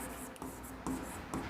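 Chalk or marker writing math on a classroom board, close scratchy strokes in short bursts with brief pauses between them, heard alone without talk.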